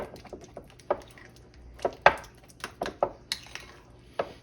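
Ham salad being mixed with room-temperature cream cheese in a bowl, with irregular utensil clinks and scrapes against the bowl and soft squishy stirring, close and fairly quiet with no talk.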